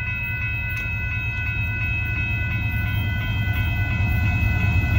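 A northbound Union Pacific intermodal freight train passes at a road crossing in Austin, Texas, with a loud, continuous low rumble and steady wheel and engine drone, close by and unbroken, with no voices.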